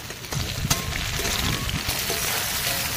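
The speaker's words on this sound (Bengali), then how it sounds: "এবারে পটল আর আলুটা একটু ভাজা করে তুলে নেব" Pointed gourd (potol) and potato pieces frying in oil with salt and turmeric, a steady dense sizzle holding at even loudness throughout, with a brief stir or clatter near the start and no voices.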